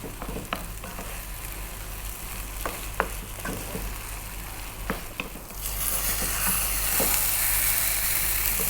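Bubble and squeak, a mix of potato and cabbage, sizzling steadily in a frying pan, with occasional clicks and scrapes as it is turned; the frying hiss grows louder and brighter toward the end.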